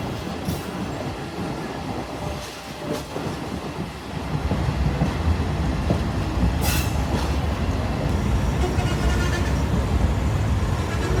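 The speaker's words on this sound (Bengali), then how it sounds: "প্রবেশ করছি আমরা শ্রীনগর রেল স্টেশনের 1 নং প্ল্যাটফর্মে।" A train rolls into platform one of Shreenagar railway station, its low rumble growing louder with occasional high metallic wheel squeals and faint clatter over the rails.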